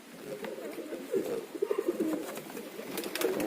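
Domestic pigeons coo in a loft where one bird sits on eggs. Soft, throaty burbles pulse in short bursts, strongest in the middle, over faint background hiss, with no talking.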